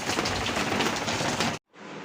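Rain falls steadily, a dense hiss of drops on surfaces that cuts out abruptly near the end and then returns more faintly.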